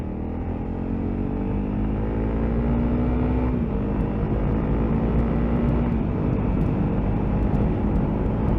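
A 2022 Honda CRF300L motorcycle cruises in third gear on an open road, its single-cylinder engine holding a loud steady drone with a slight pitch rise, mixed with strong wind rush.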